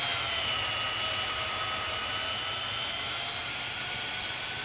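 An airliner jet spools up for takeoff in Tower Simulator 3, a loud, steady engine roar with a rising whine, sustained and close throughout.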